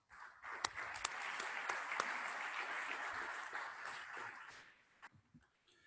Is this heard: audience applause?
yes